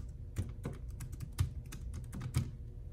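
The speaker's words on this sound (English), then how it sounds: "I'm gonna go ahead and type" Keys clatter on a Jelly Comb foldable Bluetooth keyboard in a short run of irregular, fairly close taps, a few louder keystrokes standing out against a faint room hum.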